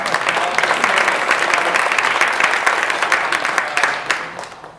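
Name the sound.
audience applause at a town hall meeting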